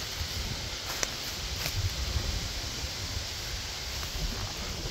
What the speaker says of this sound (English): sorry, the wind's picking up.